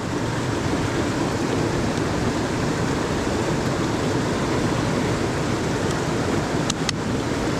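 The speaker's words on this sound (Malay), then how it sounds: "Hujan terlalu lebat." Heavy rain pours down steadily during a mahseer fishing trip in the Jelebu jungle, a dense, constant hiss filling the whole stretch with no voices.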